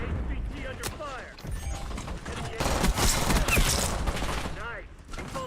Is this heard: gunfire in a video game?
yes